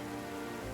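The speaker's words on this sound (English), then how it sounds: "Why is it raining all of a sudden?" Rain falls steadily in Genshin Impact, a dense even hiss close by under a low sustained musical drone, with no voices.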